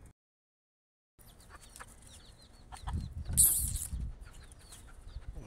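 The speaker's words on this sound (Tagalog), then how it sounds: "Mga manok oh. Ganda ng manok." Chickens cluck and murmur in a farmyard after a short silence, with scattered bird calls and some louder rustling partway through.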